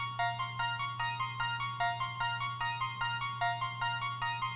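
A dry Optical Keys synth preset from FL Studio plays a bright, repetitive plucked pattern of short notes in a steady even rhythm over a constant low hum, with no effects and no voices.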